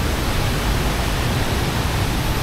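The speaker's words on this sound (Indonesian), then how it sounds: "mari kita dengarkan gemuruh air terjun atau Curug Bangkong yang lebih lama." Roaring waterfall at Curug Bangkong in Kuningan, a dense, steady rush of falling water that fills the whole clip at close range with no pauses or voices.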